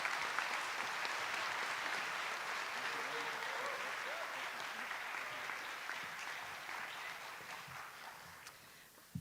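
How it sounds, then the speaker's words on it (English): Audience applause at a high school commencement ceremony, a steady broad wash of clapping that holds through the whole stretch and slowly thins toward the end. "Let's give Judge Garcia a round of applause"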